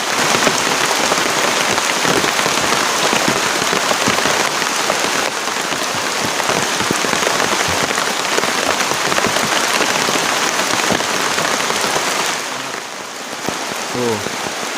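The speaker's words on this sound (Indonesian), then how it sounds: "hujan masih kenceng nih tuh" Heavy rain drums steadily on a camping tent during a storm with strong wind, a dense, constant patter that stays loud throughout, with a faint voice briefly audible near the end.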